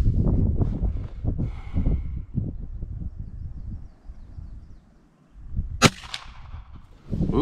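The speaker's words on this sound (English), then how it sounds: "So now I'm gonna shoot at the bottom left target." A single sharp rifle crack from a Henry Big Boy lever-action firing .38 Special at an outdoor target range, heard near and loud over steady wind noise with faint bird calls.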